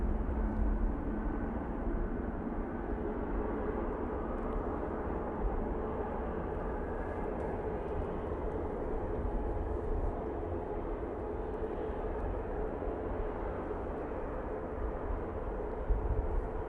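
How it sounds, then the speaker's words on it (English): Boeing 777 with GE90 engines spooling up at Manchester Airport, heard as a steady, broad jet roar that holds level throughout, distant and continuous with no talk. "those GE90s start up on that 777."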